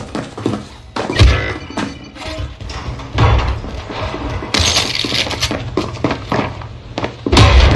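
R9 gunfire in a video game booms with heavy, cannon-like thuds, a string of loud impacts and crashes scattered irregularly across the stretch amid game noise.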